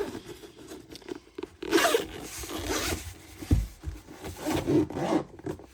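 A zipper on a scrapbooking die storage case is pulled open in several rasping strokes, close and clear, with soft rubbing and handling noises between pulls.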